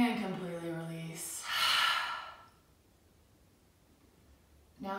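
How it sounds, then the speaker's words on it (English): A deep breath during a yoga session, with a voice briefly at the start, then a long, breathy exhale that fades into quiet before another voice returns. "Last time, deep inhale and completely release."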